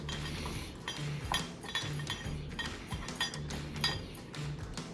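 Coffee rub being mixed in a bowl for steak, a continuous run of quiet clinks and scrapes from a utensil against the bowl, close but faint.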